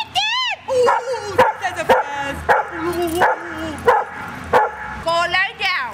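Several sharp dog barks and yips at close range, spaced through the scene, with a whimpering high whine at the start and end; a person talks between the barks.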